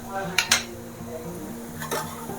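Ginger garlic paste being stirred into a cooking pan for a dry prawn curry with tamarind leaves, with a few sharp metallic spoon clinks against the pan over a low steady background, close by.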